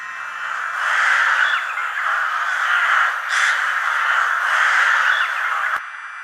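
A dense flock of crows cawing and squawking all at once, a loud continuous chorus of overlapping calls from Hitchcock's 1963 film The Birds, cutting off abruptly near the end.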